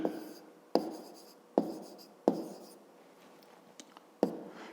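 Pen or pencil writing on paper during a fifth-grade maths exercise, heard as a few sharp taps and scratchy strokes spaced out over a quiet room, close and fairly soft.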